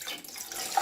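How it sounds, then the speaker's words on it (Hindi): Water runs from a tap into a cooking pot in a home kitchen while preparing talbina, a barley porridge; a short, steady splashing pour with no voices. "अब मैंने एक पतीली ले ली है। इसके अंदर सबसे पहले मैं पानी ऐड करती हूँ"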